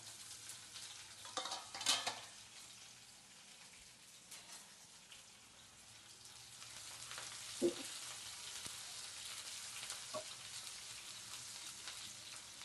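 Sliced onion sizzling in hot oil with cumin seeds, stirred in a pan for Nilanga rice, a steady crackling fry with scattered spoon scrapes and a couple of louder clinks.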